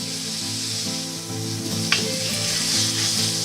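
Onions, garlic and celery sizzle steadily in a pan, a close, dense hiss with a brief clatter partway through as the pan is moved or the vegetables are stirred.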